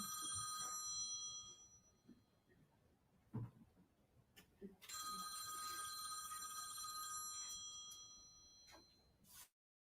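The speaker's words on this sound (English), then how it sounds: "Will somebody answer the phone?" A telephone rings during a meeting, a bright metallic bell trilling in two long bursts separated by a pause, with faint clicks and scattered sounds in between.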